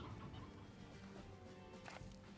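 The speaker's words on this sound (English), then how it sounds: "There's so many hens." Many hens cluck in the video game Slime Rancher 2 as a faint crowd of soft overlapping clucks and scuffling steps over a steady background hum, with no talk.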